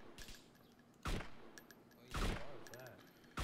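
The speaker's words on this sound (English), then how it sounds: "I'm shooting at that guy" Gunfire in the video game DayZ, with three loud, sharp shots spaced about a second apart, each ringing out over a quieter background that carries a faint voice.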